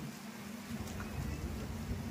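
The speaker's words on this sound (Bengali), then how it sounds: "কিন্তু এই সময় বাইরে প্রচণ্ড বৃষ্টি হচ্ছে, প্লাস বাজ পড়ছে।" Faint heavy rain hisses steadily under a low, rolling rumble of thunder, all quiet and muffled, heard from inside the Darjeeling Mail train at night after leaving New Jalpaiguri station.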